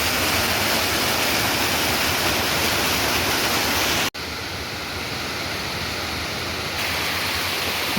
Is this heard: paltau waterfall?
yes